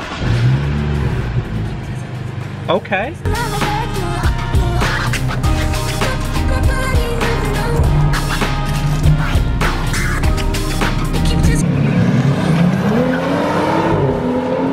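BMW 435i with a stage 1 tune starts up and revs hard, engine roaring up and down with sharp rising sweeps and what sounds like tire squeal, loud and close; a voice speaks briefly near the start.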